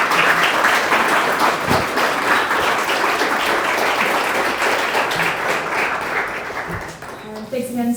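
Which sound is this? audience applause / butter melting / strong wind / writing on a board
audience applause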